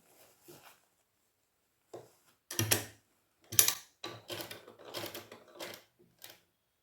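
A sewing machine stitching a blouse, heard as short bursts of quick mechanical rattling and clicking separated by pauses, fairly close and moderately quiet.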